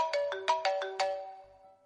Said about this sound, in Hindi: इतने में बहू का फोन बजता है।